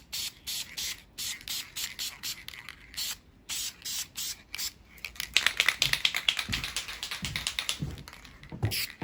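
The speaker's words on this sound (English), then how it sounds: "when I spray, I only spray a little bit, and then I'll go over it again" Spray paint can hissing onto a steel punch tool during restoration, first in short regular bursts with pauses, then in quicker, choppier sprays mixed with light clicks and handling noise.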